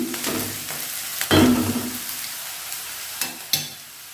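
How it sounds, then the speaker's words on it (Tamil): Onions sauté in a pan until golden brown for a Tamil cauliflower stir-fry, giving a soft, steady sizzle with a few close scraping stirs and clinks of a spoon against the pan. "வெங்காயம் நல்லா வதங்கி நல்லா கோல்டன் ப்ரௌன் கலரில் வரணுங்க."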